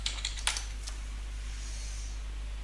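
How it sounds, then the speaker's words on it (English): A password is typed on a computer keyboard, a short burst of a few sharp key clicks at the start, then a pause and a final tap over a constant low fan hum. "now I'll type my password for this user"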